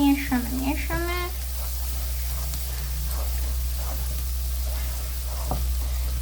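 A pan of bolognese sauce sizzles softly and steadily while being stirred, with a steady low hum beneath and brief voices at the start.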